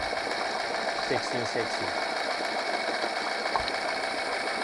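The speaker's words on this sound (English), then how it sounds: "So the motor is idling well." A Honda 8 hp four-stroke outboard kicker motor, recently carb-cleaned, idles in a steady, even hum that runs unbroken beneath someone talking close by.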